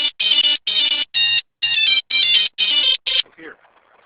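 A phone ringtone plays as a loud, repeating electronic pattern of about eight evenly spaced bursts, then cuts to faint background noise.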